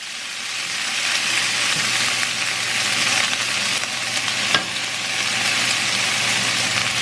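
Green onion whites, garlic and hot chili sizzling in oil in a pan while cooking ma po tofu, a dense continuous crackle held close and steady, with a brief clatter of stirring.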